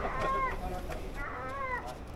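Two drawn-out, wailing seagull calls, one after another, rising and falling in pitch at moderate distance over faint background noise, off Tenerife on a fishing charter.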